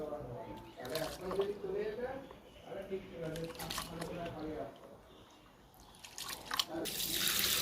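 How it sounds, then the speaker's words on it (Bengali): Water poured off about five kilograms of washed, salted rice for making puffed rice at home, splashing and running steadily like a tap into a sink, with a person talking over it throughout. "এবার জলটা ফেলে দেওয়া হচ্ছে"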